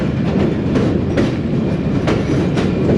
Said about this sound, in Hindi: इस वक्त हमारी ट्रेन दरियाए रावी के ऊपर से गुजर रही है तकरीबन 25 किलोमीटर फ़ी घंटे की रफ्तार से।